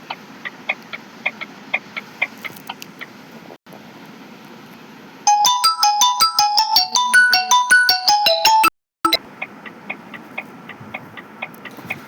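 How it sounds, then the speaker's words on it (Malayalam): A phone ringtone plays a bright, rapid electronic melody for a few seconds, cutting off abruptly, between stretches of steady ticking like a clock. "ഓക്കെ ഗൈസ്, അതൊരു ഫോൺ കോളായിരുന്നു."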